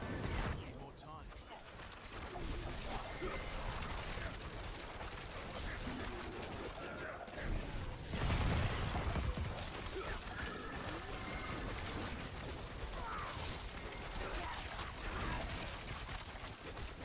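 Rapid barrage skill fire from a video game, a dense continuous stream of shots and mechanical clatter with a loud burst near the middle, running under game music and effects.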